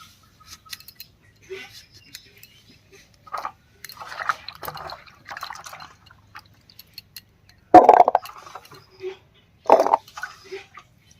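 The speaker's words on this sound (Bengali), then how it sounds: "মিষ্টি কুমড়োটা কেটে একেবারে ধুয়ে নিলাম" Cut pumpkin pieces being washed in water, with intermittent splashes, drips and sloshing that come and go in short bursts, a louder splash near the end, against a quiet background.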